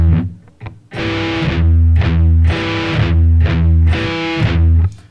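A distorted electric guitar plays a palm-muted metal riff: loud, close, chugging low chords in a repeating rhythmic pattern, alone, ringing out after a brief quiet start.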